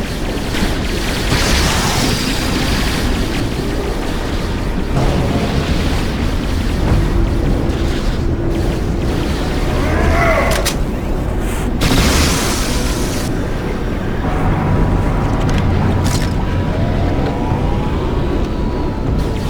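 Weapons fire in a battle in the video game Star Trek Online, with heavy booms and blasts rolling in a dense, continuous barrage and sharp bursts punctuating it.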